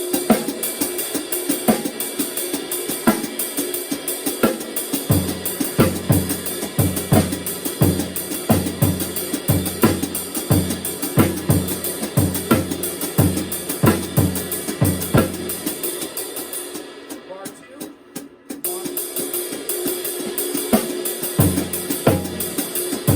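Drum kit groove with hi-hat and ride carrying an offbeat sixteenth-note ostinato, snare on beats 2 and 4 and bass drum reading a line; steady, dense close-miked pattern running throughout, briefly thinning near the end.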